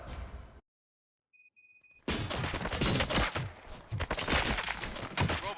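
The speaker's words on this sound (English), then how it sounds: "Gunshots? What's going on?" Heavy gunfire erupts in the Robocop Rogue City video game, dense rapid bursts of shots close and loud after a brief silence broken by a few electronic tones.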